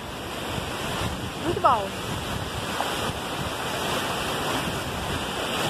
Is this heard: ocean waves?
yes